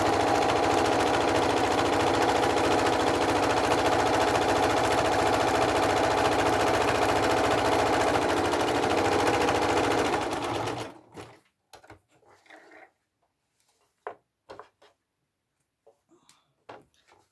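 Sewing machine zigzag stitching along a turned-over short fabric edge, running loud and continuous for about ten seconds, then stopping, followed by a few faint handling clicks.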